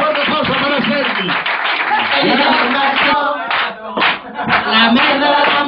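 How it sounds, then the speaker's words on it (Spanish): A live audience at a stage show of comedy and musical performances claps loudly and densely, a sustained wave of applause that briefly dips before swelling again. "Un fuerte aplauso para el Raval."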